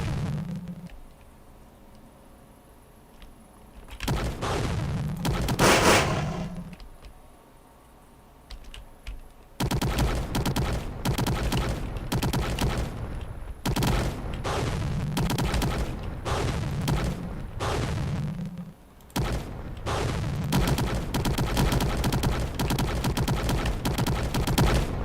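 Video game gunfire rattles in rapid bursts and volleys, loud and dense, broken by short quieter pauses, with no talking.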